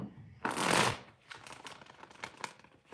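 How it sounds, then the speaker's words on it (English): A deck of cards is riffled in one loud, close burst, then worked with a run of quicker, softer flicks and taps during a tarot reading. "All right, Nita, let me cut the deck, shuffle it a little bit more"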